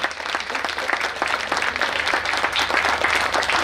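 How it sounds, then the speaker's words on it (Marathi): A crowd at a Chhatrapati Sambhaji Maharaj birth-anniversary gathering at Purandar fort claps in a sustained round of applause, the individual claps sharp and distinct at moderate distance, with no talking heard over it. "यांच्यासाठी सर्वप्रथम चांगल्या टाळ्या वाजवा"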